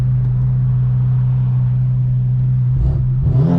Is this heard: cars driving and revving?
yes